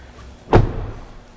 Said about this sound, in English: Let's listen to this door when you put a new latch on it.